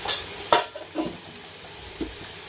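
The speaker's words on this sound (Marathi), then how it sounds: "कांदा भाजलेला आहे. हळद घालते थोडीशी." Onions frying in a pan as a pinch of homemade turmeric goes in, for a cauliflower curry: quiet scraping stir strokes and light clinks over a soft sizzle, with a few sharp hits early on.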